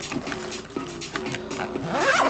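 The zipper of a pencil bag drawn open in several short, scratchy pulls, close and fairly loud, ending in a longer steady zip.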